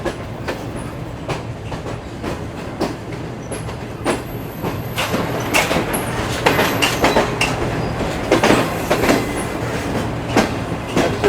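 The Shalimar Express runs past Samma Satta junction near Lahore, its wheels beating a steady clickety-clack with squeals and rattles that build in loudness over eleven seconds, with no voices.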